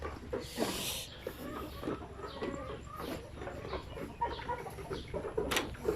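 Zamboanga native chickens, young pullets in a pen, cluck and call in scattered bursts close to the microphone, with rustling farmyard noise filling the background throughout.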